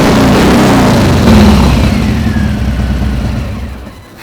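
A Harley motorcycle fitted with a Bassani 2-in-1 exhaust roars loudly and close, a deep rumbling rev that swells and then slowly fades as the engine settles.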